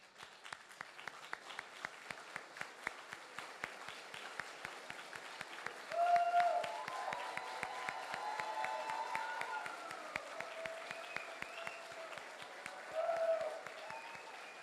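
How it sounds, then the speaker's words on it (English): A residency graduation audience gives the graduates a standing ovation. Dense, continuous clapping in a large hall holds steady throughout, with brief swells of louder cheering and scattered voices. "can we all stand up for the final round of applause here for our graduates?"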